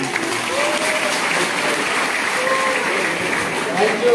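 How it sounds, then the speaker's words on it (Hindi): A crowd at an Adivasi Diwas gathering claps loudly and continuously for a priest, with cheers and voices mixed into the dense applause. "फादर जोवेल के नाम में थोड़ा जोर से ताली दे दीजिए"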